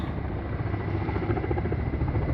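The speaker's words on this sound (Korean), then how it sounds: "지금 헬기들이 여러 대들이 투입돼서" Several firefighting helicopters working over a wildfire, a loud continuous rotor thrum with a rapid pulsing beat and engine whine, with no talk.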